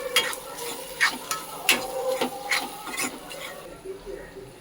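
A spoon stirs salt, Kashmiri red chili powder, turmeric, cumin and coriander powder in a pan for paneer bhurji, rhythmic scraping strokes over a soft sizzle that fades out near the end.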